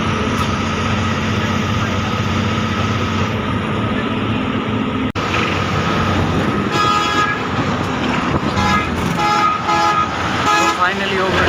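Traffic on a highway between Delhi and Chandigarh heard from inside a car as it overtakes a Volvo bus, with steady road and engine rumble, a sharp knock midway and a series of horn toots in the second half.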